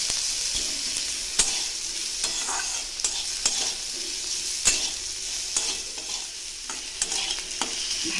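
Spiced ingredients for a small-fish curry frying together in a pan with salt, turmeric and a little sugar: a continuous hiss of sizzling oil punctuated by repeated sharp clicks of a spatula stirring against the pan, close and unvoiced.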